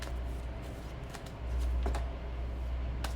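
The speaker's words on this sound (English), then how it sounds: "We're gonna do a little bit more pre-shuffles" Tarot cards are shuffled by hand, with soft riffling and a few sharp flicks over a low steady hum, close and fairly quiet.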